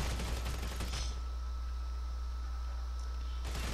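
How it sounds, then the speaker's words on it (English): Gunfire in Grand Theft Auto 5: a dense, rapid burst of shots crackles in the first second, then a steady low rumble and background hiss continue before another burst starts near the end. "there's somebody shooting at me"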